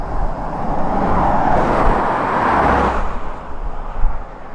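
A car approaches along a roadside in North Queensland bushland, a steady broadband road rumble swelling and holding fairly loud for several seconds with no talk over it.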